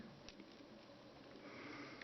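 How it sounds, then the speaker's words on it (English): Sniffling outdoors in snow while stretching tarps back over a shelter roof: a quiet nasal sniff near the start, then soft steady background rustle, fairly faint, with no talking. "Pardon the sniffling."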